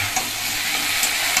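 Potato, cauliflower and bori fry with spices in a pan, giving a dense, steady sizzle that fills the short moment without any talking.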